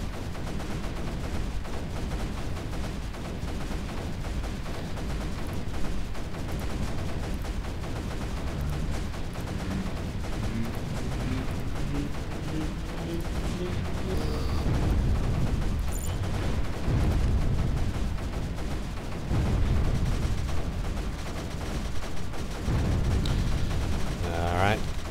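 Pulse cannons fire in a video game battle sped up to 4x, a dense, continuous barrage of rattling, gunfire-like bursts that stays loud throughout, with a rising tonal sweep partway through.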